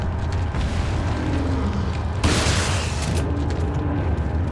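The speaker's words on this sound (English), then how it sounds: "Shotgun." A shotgun fires once in Resident Evil 4, one loud, close, broadband blast halfway through, set against a constant, heavy rumble of game noise.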